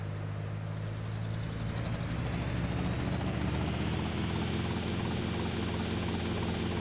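A helicopter in the video game GTA Vice City whirs with a continuous rotor and engine roar that swells slightly, loud and steady throughout.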